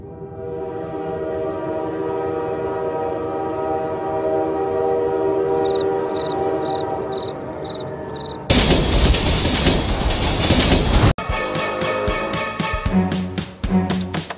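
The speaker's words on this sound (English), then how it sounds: "And oh no, train horn." A train horn blows one long sustained tone, then a loud, clattering rush of the train passing close by, with a brief gap before the rumble continues.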